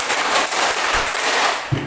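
Schoolchildren in a classroom clap in unison on a counted beat, a crowded flurry of handclaps ringing out loudly and close for a couple of seconds.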